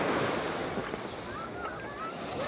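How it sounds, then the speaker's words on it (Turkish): Sea waves wash onto a sandy beach in a continuous surging rush. Wind buffets the microphone, and the surf stays fairly close and steady throughout. "Gidiyor Mustafa dalgayla birlikte."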